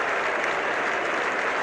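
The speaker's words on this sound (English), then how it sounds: "The Australians applauding, and the ground is rising to Kallicharran." Sustained, dense applause from a large crowd at Lord's cricket ground during the 1975 World Cup final, Australia against West Indies, loud and steady throughout with no talk over it.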